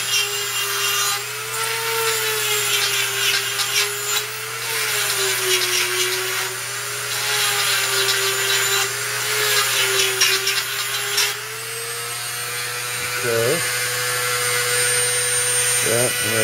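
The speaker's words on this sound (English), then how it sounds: "I'm going to take my Dremel tool." A Dremel rotary tool grinds and shapes the tip and string grooves on a wooden workpiece, a steady high whine with a rasping, sawing texture that runs continuously and shifts pitch slightly as the load changes, close and fairly loud.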